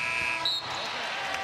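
At an NBA basketball game, the buzzer ending the first quarter sounds as a short electronic tone over crowd noise and a ball bounce, giving way to arena din.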